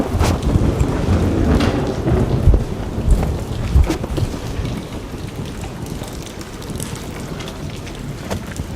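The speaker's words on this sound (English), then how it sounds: "that was raining a little bit harder than I thought it was" Heavy rain pours steadily outdoors with a dense hiss, gusty wind and low rumbling, loud and close throughout.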